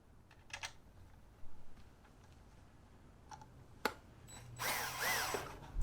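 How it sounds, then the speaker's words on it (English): A power drill drives screws to mount a solar motion sensor light outdoors, with a few faint clicks and then a short, fairly close whir of the drill at the end. "I'm going to simply just screw it in like so."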